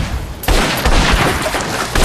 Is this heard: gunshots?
yes